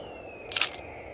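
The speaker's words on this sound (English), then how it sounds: "when you're ready to snap the photo, just press the shutter all the way down" Canon EOS R10 camera shutter fires once with a crisp mechanical click-clack, close and brief over a quiet room.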